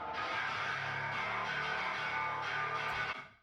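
A sustained bass note rings out through a convolution reverb at full wet mix, swelling into a broad, washy stereo tail that holds steady before fading at the end, quiet overall and without talk.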